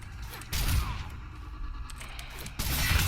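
A character fires shots at the player in a Mortal Kombat game, short loud bursts at the start and end with quieter mechanical clatter between.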